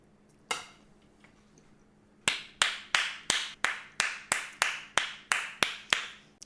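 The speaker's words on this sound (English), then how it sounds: "I just had to give myself a round of applause" A single person claps for herself in a home kitchen, one sharp clap, a pause, then about a dozen crisp, evenly spaced claps in a steady rhythm, close and loud over a quiet room.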